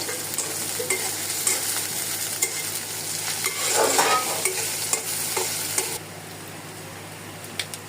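Small fish chochchori with chopped onion and green chillies sizzles steadily in a pan while being stirred, a close, continuous frying hiss with scraping stir strokes throughout.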